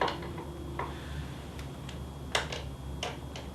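A ratchet socket clicks in a quick series of small ticks while a nut on a Suzuki GS500 brake lever is tightened, close and faint over a low steady hum.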